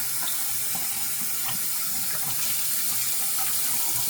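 A bathroom tap runs steadily into a sink to wet a shaving brush, giving a constant close-up hiss and splash of flowing water with no pauses.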